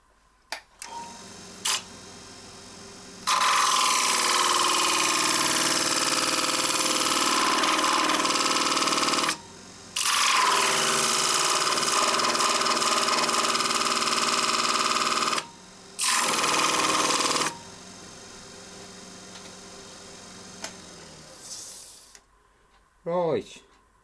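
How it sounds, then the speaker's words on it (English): A lollipop stick is pressed against a spinning wooden bowl on a wood lathe to friction-burn lines into it, giving loud, steady whirring and rubbing in three long bursts separated by brief pauses. "So I'm going to burn them in now"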